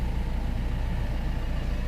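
Diesel engine of a Mahindra Bolero extra-long pickup idling, heard from inside the cabin as a steady low rumble with a faint even throb, continuous and moderately quiet.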